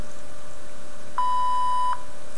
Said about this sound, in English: Next we have the IMTS automatic number identification mode.